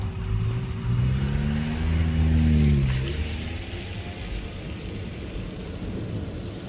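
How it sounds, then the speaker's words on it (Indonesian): A car at night pulls away hard, its engine note climbing and swelling loudly for a couple of seconds before fading into a lower, steady rumble as it moves off. "Untung aja aku pun langsung tancap gas lagi, menjauh dari tempat itu."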